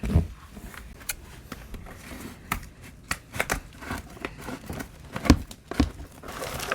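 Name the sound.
cutting a plant pot to free roots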